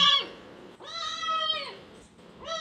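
Two loud, drawn-out cat meows close by, separated by a short pause, with the start of a third at the end.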